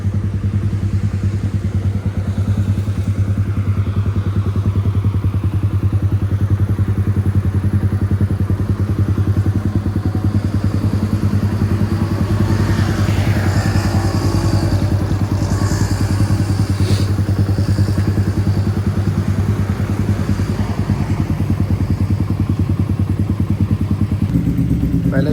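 A Suzuki GSX motorcycle engine runs steadily at idle, with a low, throbbing exhaust hum and a continuous light mechanical clatter of tappet noise, heard close up throughout.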